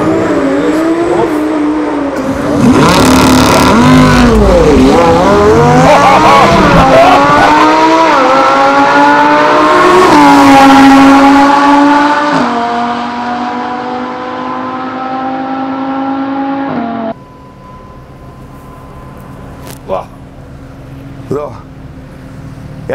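A tuned car launching hard on a quarter-mile run at the Yas Marina circuit in Abu Dhabi, engine roaring loud and close, revving up through gear changes with rising whines before dropping off, while people talk over it.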